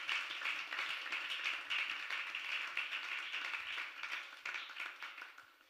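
A church congregation at a Wednesday teaching service bursts into steady, sustained applause, many hands clapping together in a dense, even wash that holds for several seconds and slowly thins toward the end.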